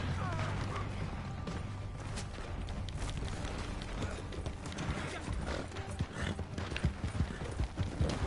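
Horse hooves clip-clop steadily in Red Dead Online, a close, continuous trot that carries through the whole stretch, with scattered in-game noises and occasional voice chat over it.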